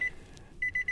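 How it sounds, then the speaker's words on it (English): A high electronic warning tone beeps repeatedly inside a 2024 Nissan 4x4, short evenly spaced pips after a brief pause. "Excuse the beeping."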